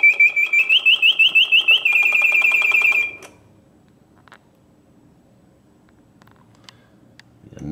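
A 1969 Reuge mechanical singing bird cage chirps shrilly in rapid repeated trills for about three seconds, then stops, leaving faint clicking and whirring machinery.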